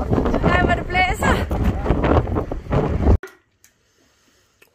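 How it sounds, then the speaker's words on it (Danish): Strong wind blowing outdoors, loud buffeting roar against the microphone with people talking over it, then cutting off abruptly to near silence. "Ej, hvor det blæser."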